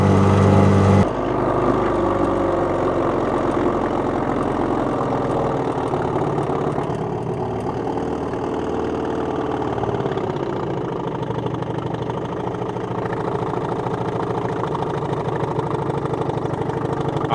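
An Evinrude Lightwin outboard boat motor idling low and slow, a steady close putter that runs continuously after a brief louder start, with no talk.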